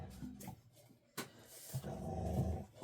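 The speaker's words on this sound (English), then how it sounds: "I'm sorry that my dogs are getting ready to come in here" Two golden retriever dogs growl and grumble nearby in a home craft room, low rough rumbles in short bursts with a sharp knock partway through and no talking.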